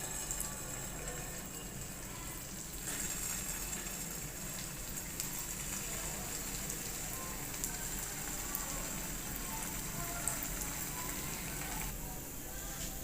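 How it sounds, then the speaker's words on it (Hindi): Vegetable koftas fry in hot oil over a low flame, making a steady, even sizzling hiss that runs without a break the whole time, close by and moderately loud. "अब हम कोफ्तों को लो फ्लेम पर फ्राई कर लेंगे।"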